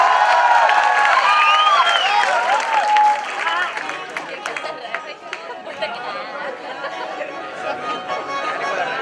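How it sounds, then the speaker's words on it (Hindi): A large crowd at a JNU 15 August celebration applauding to welcome Dinesh Lal Yadav, with dense clapping, whistles and crowd chatter that stay loud throughout, then ease slightly. "जोरदार तालियों से स्वागत करिए दिनेश लाल यादव जी को"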